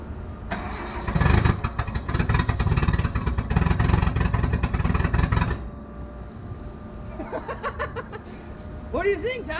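A Mitsubishi Mighty Max truck with a 4G63 engine cranks and fires into a loud, rough idle for several seconds on its first startup, then cuts off, followed by people talking and cheering nearby.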